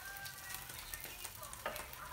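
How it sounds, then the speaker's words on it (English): Steady sizzling and crackling of eggs frying on an IKICH electric nonstick griddle, with small pops, close and fairly quiet, no talking. "now it's starting to sizzle a lot more"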